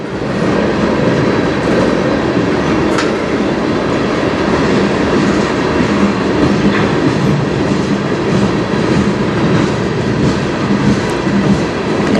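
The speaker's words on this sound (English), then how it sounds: "Oh, there's another train moving behind it." Freight train rolling along rail tracks, a loud continuous rumble and clatter of wheels with faint squeals, steady and close for the whole stretch, no talking.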